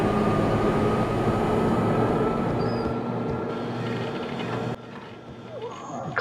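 A subway train in the Max Payne video game rumbles along with a steady, loud roar and faint high whine, its noise dropping off noticeably near the end.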